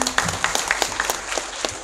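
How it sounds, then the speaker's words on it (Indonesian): Audience applause at a public talk on the civil service law in Riau, a brisk, fairly close clatter of many hands clapping with distinct individual claps standing out. "Ya, tepuk tangan untuk saudara kita."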